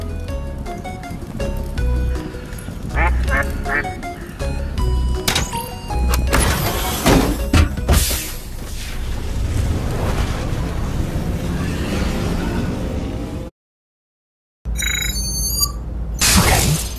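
A giant rubber duck is smashed apart in the Out of Scale video game, with a run of crashing, shattering impacts and clattering debris, a brief silent gap, then more crunching breakage.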